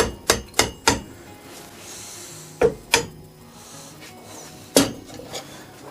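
Metal tapping on the flywheel of a 1954 Elgin outboard motor to work it loose: a quick burst of three knocks, then a pair, then one more, each clear and close over a low background hum.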